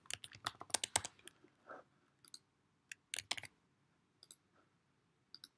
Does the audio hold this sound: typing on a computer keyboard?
yes